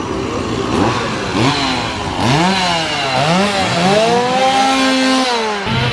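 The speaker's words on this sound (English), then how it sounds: "Oh, I hear them. Here come the chainsaws." Loud chainsaws rev up and down continuously at a Halloween horror event at SeaWorld Orlando, their engine whine rising and falling in pitch as several overlap, with no talking.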